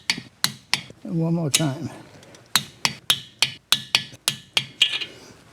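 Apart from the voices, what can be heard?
torque wrench tightening cylinder head bolts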